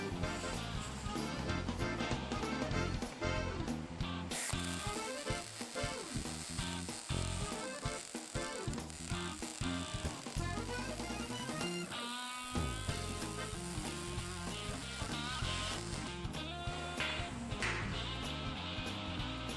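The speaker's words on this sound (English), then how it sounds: "you need to edge weld one bushing onto the end of the piece of round stock" Arc welding a bushing onto the end of round stock for a utility trailer ramp hinge, a continuous crackling sizzle with irregular pops and brief pauses, steady and close throughout.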